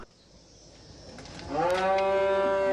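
Cattle at a feedlot give a loud, drawn-out moo that starts after a quiet stretch of low ambient noise and carries on to the end, close and alone.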